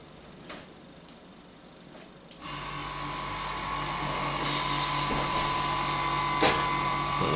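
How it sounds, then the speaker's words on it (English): An airbrush spraying paint onto an Eduard Bf 109G-2 scale model switches on abruptly into a steady, close, even hiss with a faint compressor hum underneath, holding constant without talk. "Airbrush on."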